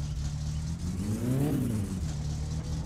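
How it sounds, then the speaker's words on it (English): A Satsuma car engine in My Summer Car revs up and falls back in one smooth rise and drop, a steady mid-pitched drone with no talk over it. "Oh, revs a bit high there."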